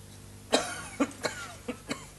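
Five short coughs at uneven intervals, close and fairly loud, with no talking.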